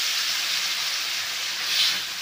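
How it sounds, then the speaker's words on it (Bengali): Hot water is added to a vegetarian jackfruit curry in a hot pan, making a steady loud hiss and sizzle that carries on evenly throughout and swells slightly near the end, with no voices. "এবার আমি একটু করে রাখা গরম জল এটা দিচ্ছি"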